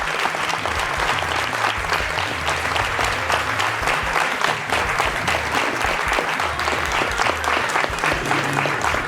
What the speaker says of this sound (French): on va l'aider à se lever en l'applaudissant très très très fort